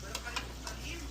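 Pork belly kaldereta with tomato paste and pickles being stirred in a pan, a few soft scraping strokes over a low steady simmering hiss, close and quiet.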